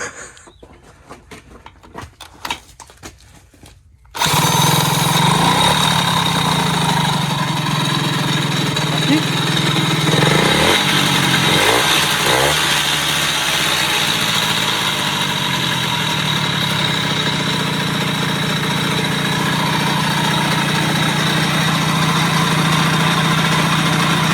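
An MBK 103 RCX moped's two-stroke engine idles and is revved up, a loud buzzing that starts abruptly after a few seconds of quiet handling noise and holds steady with small surges, with faint clucking of chickens nearby.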